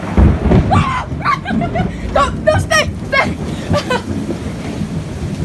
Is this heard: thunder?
yes